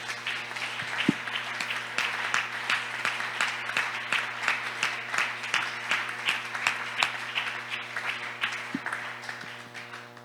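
Steady applause from a church congregation, rhythmic and sustained throughout, fairly loud and close, with no speech over it.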